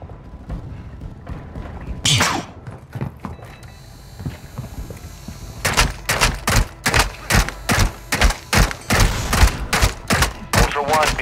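Rapid bursts of gunfire in the video game Call of Duty Warzone on Ashika Island, a sharp shot early, then a loud rhythmic string of repeated close shots filling the second half.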